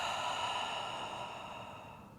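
A single long open-mouth exhale during yoga breathing, a breathy airy rush that fades slowly over about two seconds.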